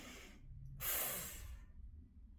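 A sharp, breathy inhale during an at-home, no-equipment beginner workout, loud and alone, with a strong hiss rising and tapering off over about half a second.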